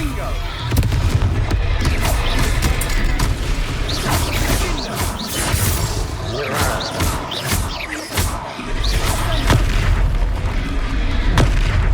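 Repeated Confringo blasting spells explode in a monster battle in the Hogwarts Legacy video game. Dense, loud booms and impacts hit one after another throughout, with voices mixed into the chaos.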